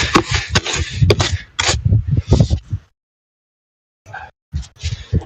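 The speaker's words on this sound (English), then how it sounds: "Cleaning my shovels so they can go back in the house to be warm." Snow shovels being scraped clean of snow and ice outdoors, giving repeated harsh scraping strokes and clanks in uneven bursts, close and loud, with a gap of silence partway through.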